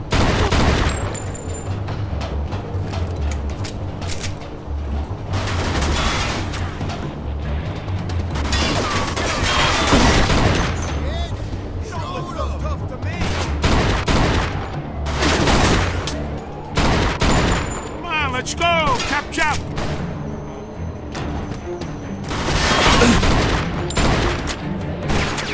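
Bursts of gunfire fill a Mafia II gameplay scene, with repeated volleys, sharp shots and crashes in loud clusters, separated by quieter stretches, with occasional in-game voices.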